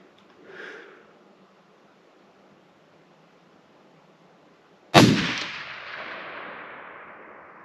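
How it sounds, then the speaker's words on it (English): A single loud rifle shot fired at the range while zeroing an Arken SH4 scope, a sharp crack with a long decaying tail, preceded by a faint brief sound earlier. "Shooting them at the same spot, and then we'll build a zero from there."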